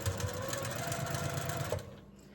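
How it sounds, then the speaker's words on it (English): A sewing machine stitches quilt block pieces in a fast, even mechanical chatter for about two seconds, close and clear, then stops abruptly. "You're going to sew at 1/4 of an inch all the way down"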